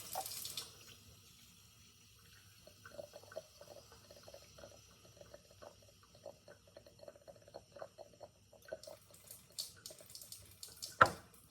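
Cold water runs from a tap in bursts, splashing and trickling into a sink at close range, with a brief clatter near the end and no voices.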